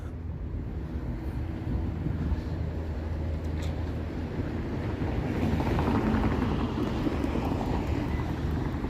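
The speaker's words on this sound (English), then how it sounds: "plane" An airplane passes over a city on a chilly evening, a broad, steady rumble with wind buffeting the microphone, swelling slightly toward the end.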